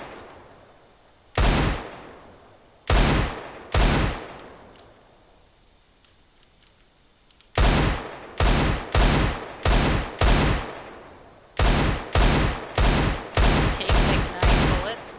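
Gunfire in CSGO: loud sharp shots ring out close by, first a few spaced single cracks, then two rapid bursts of evenly timed shots, each with a short echoing tail and no talk.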